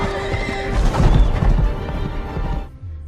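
A horse neighs loudly over clip-clopping hooves as a rider sets off on horseback, a dense burst of whinnying and movement that fades out abruptly near the end.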